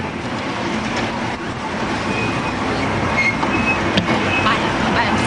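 Loud, continuous rumble of the small train ride at Santa Ana Zoo, wheels clattering and rattling steadily close by with occasional squeaks.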